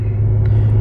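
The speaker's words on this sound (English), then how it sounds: "Oh, look at this car coming." A car drives past on a road outside, a loud, close low rumble of engine and tyres that holds steady through the brief moment, with no speech.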